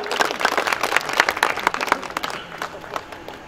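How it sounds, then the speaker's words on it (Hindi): Audience members at a mushaira poetry gathering and ribbon cutting clap in an uneven burst of applause, loud at first and then fading away after a couple of seconds. "तालियों से इस्तकबाल कीजिए"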